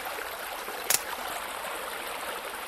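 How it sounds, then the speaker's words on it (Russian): Water pouring in to fill a space in a cartoon dinosaur-egg video game, a steady faint flowing trickle with one brief splashy burst near the start, no talk. "Наполняется вода"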